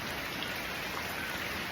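Steady rain falls in a soft, continuous hiss, fairly faint and with no voices.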